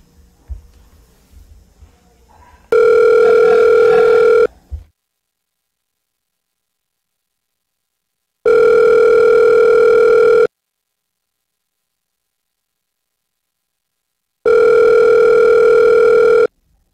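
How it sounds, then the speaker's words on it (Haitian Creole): A telephone ringback tone sounds in three long, even bursts separated by long silences, clear and steady, the call going unanswered, with faint rustling at the start. "Ça sonne sans réponse."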